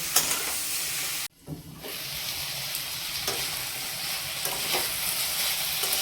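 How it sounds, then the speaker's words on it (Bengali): Mixed vegetables for navratan korma frying in a pan, a dense steady sizzle that cuts out for a moment and then returns as they are stirred, with repeated spatula scrapes, close and without talk. "এবার সব কটা সবজি খুব ভালোভাবে ভেজে নিতে হবে"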